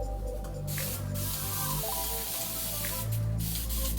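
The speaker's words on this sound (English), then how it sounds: "what I'm going to do is spray this section with water" A spray bottle mists water onto a section of hair in several quick hissing bursts, close and distinct over a quiet background hum.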